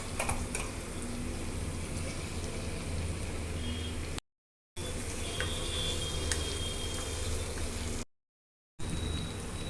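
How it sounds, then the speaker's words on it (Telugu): Okra and tomato pieces fry in a pan with a steady, close sizzle and crackle, soft and even, broken by two short gaps of silence. "ఒక 2 నిమిషాలు ఫ్రై చేసుకుందాము."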